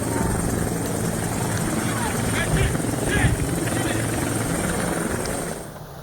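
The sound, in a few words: helicopter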